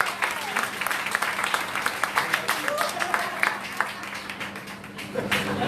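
An audience in Netanya applauds Rav David Twitou with lively, close clapping and scattered sharp claps, a low hum and faint voices underneath.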